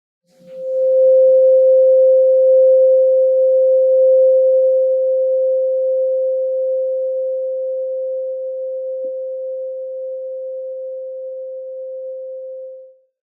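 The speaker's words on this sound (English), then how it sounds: "a little kiss sound of 528 hertz tuning fork" A 528 hertz tuning fork rings with a pure, steady tone, starting strong and slowly fading over about twelve seconds, alone in silence.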